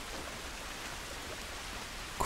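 Steady rain falls in The Last of Us, a soft even hiss of drops on the surface that continues unbroken and fairly quiet, with no voices.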